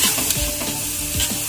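Steady, crackling sizzle of potatoes frying in a hot pan, with occasional scraping stirs, close up and continuous.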